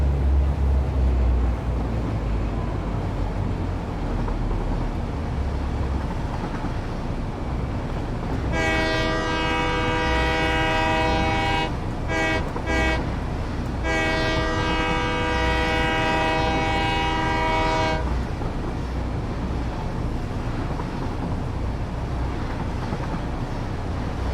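Train rolling along in the Satisfactory video game, a steady rumbling run broken by long sustained horn blasts in the middle, briefly interrupted and then resumed.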